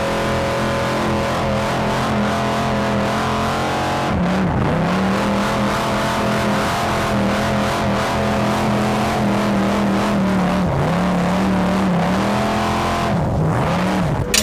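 A 1200 hp Nissan R35 GT-R being driven, its engine droning loudly and continuously from inside the car, the pitch rising and dropping through several shifts and revs.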